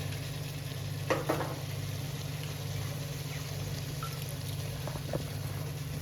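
Carrots and peas fry in a pan for a dhaba-style vegetable dish, giving a steady, close sizzle with a low hum underneath and a few faint clinks of stirring.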